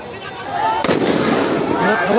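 A single sharp gunshot cracks out amid a tense street clash in Gopalganj, with soldiers in position, over a steady wash of crowd noise and voices talking.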